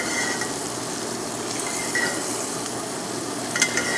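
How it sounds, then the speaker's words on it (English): Steak in a YETI 12-inch cast-iron skillet sizzles steadily while butter with garlic and rosemary is spooned over it, a close, even frying hiss with a few light clinks of a spoon near the end. "Sort of give her a little bath, baste it."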